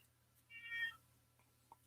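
A house cat gives a single short, quiet meow, a little distant, over a low steady hum, followed by a faint tick. No one speaks.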